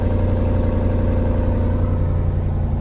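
A 2026 Jeep Wrangler Rubicon 392 V8 exhaust idles steadily nearby after a cold start, a deep, even rumbling burble with a low throb and no revving.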